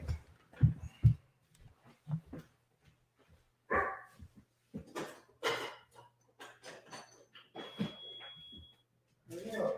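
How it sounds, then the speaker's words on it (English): A dog barks in short repeated bursts, close and fairly loud, with irregular pauses between barks and a brief whimper among them, and a person speaking at times. "Let me go let my dog in."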